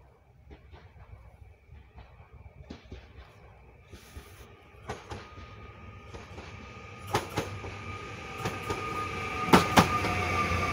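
A regional train to Katowice approaches from a distance, rumble and metallic clatter growing steadily louder, with rhythmic clicks of wheels over rail joints and brief squeals near the end.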